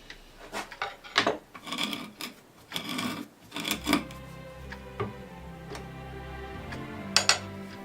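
A spindle gouge scrapes and rasps against spalted oak as it turns on a lathe, making repeated close rough cuts that give way to a steadier hum with occasional sharp ticks.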